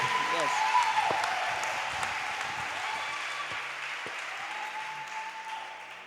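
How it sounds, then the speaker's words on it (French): Congregation applauding during a church worship service, a steady broadband wash of clapping that holds for the whole stretch and fades slightly toward the end, with voices mixed in underneath. "Acclame Jésus"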